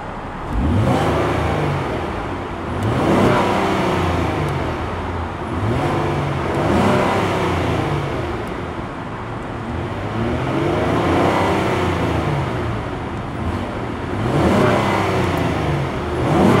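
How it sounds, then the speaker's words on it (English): A 2018 Ford Edge Titanium SUV engine revs repeatedly, rising and falling in several rhythmic pulls, loud and close, with no voices. "I'm just gonna give a couple of revs."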